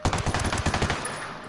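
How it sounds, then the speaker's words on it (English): Rapid automatic gunfire in Ghost Recon Wildlands, a fast burst of about a dozen loud, close shots that stop abruptly partway through, leaving a short fading tail. "I just shot you like 5 times in the face"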